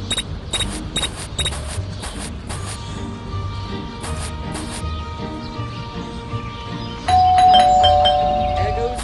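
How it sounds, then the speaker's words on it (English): A doorbell rings again and again in the video game Scary Teacher 3D, sharp repeated chimes over steady game music and background noise, with a brighter, louder ring near the end. "Stupid bell again."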